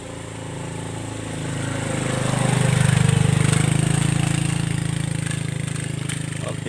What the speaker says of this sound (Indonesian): traktor.